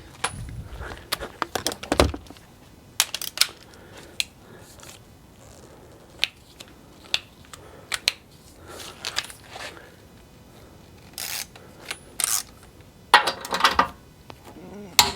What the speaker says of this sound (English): we're going to torque it down to 120 foot-pounds